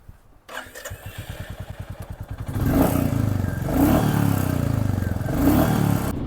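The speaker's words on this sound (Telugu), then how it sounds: "ఎగ్జాస్ట్ నోట్ అయితే వినండి." A 2025 Royal Enfield Classic 350 Stealth Black motorcycle starting up close by: a rapid starter chatter, then the single-cylinder engine catches and settles into a loud, thumping exhaust note with a couple of light revs.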